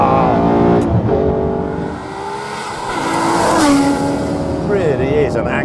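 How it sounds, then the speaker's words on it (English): Aston Martin One-77 EVO engine revving hard and loud close by, pitch climbing and falling through gear changes with tyre squeal, while someone talks over it. "Really is an angry engine."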